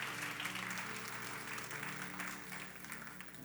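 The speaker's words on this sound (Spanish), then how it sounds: "Dale un aplauso a Él." A church congregation at a Spanish-language service claps together in sustained, even applause that sounds somewhat distant and soft, easing slightly toward the end.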